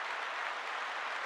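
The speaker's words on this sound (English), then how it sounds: "Then we're going to close it out with some applause here." Audience applause closing out a real estate education show, a steady dense wash of clapping filling the whole short moment without pause.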